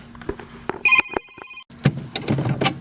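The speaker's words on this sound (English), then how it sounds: "Phone call." A telephone rings in bursts of clear repeating electronic tones amid clattering work noise in a shop where a three-point mower is being repaired, fairly close and loud.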